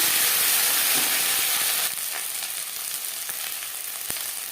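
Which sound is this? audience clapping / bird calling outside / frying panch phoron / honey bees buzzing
frying panch phoron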